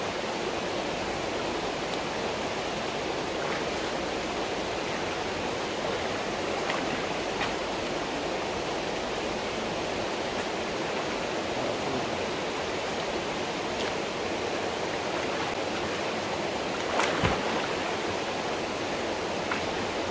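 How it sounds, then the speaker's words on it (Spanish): The El Diamante river flowing outdoors, a steady broadband rush of water that stays constant and close throughout, with no voices. "Y bueno, así está el río El Diamante."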